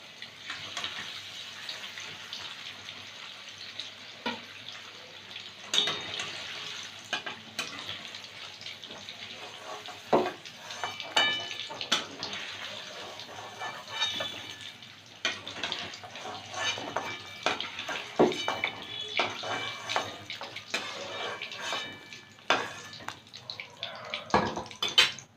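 Pieces of fried paneer go into a bowl of hot water in a home kitchen, producing soft, scattered splashes, drips and light clinks of the bowl at low level, with no talking.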